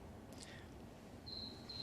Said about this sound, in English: is that the cricket?